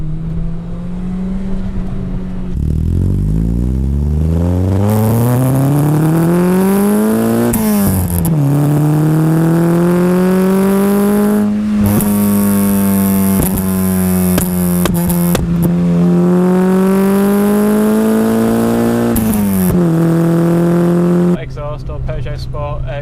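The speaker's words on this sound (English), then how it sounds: "Exhaust or Peugeot Sport Group N system, so that's pretty loud and nice" A 1998 Peugeot 106 Rallye S2's loud Peugeot Sport Group N exhaust revving hard, rising and falling in pitch through several blips, with a sharp crackle and pop as the throttle closes near the end.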